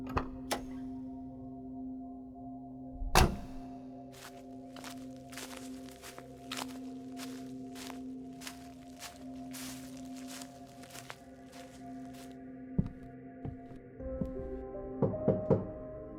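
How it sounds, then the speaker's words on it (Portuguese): Footsteps approach a door in a horror story, a slow run of distinct knocking steps on a hard floor, fairly faint against a quiet steady hum, with a louder thump near the start and a few sharper knocks at the end. "Ouvi passos lá dentro."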